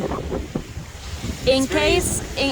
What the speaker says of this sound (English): this is what happens on a windy day, 16 miles per hour